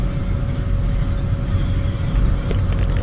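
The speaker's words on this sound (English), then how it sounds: "Truck's running good despite the no overdrive." A Ford truck engine running with no overdrive while climbing in third gear, a steady loud low drone with constant road rumble throughout, heard from inside the cab with no talking.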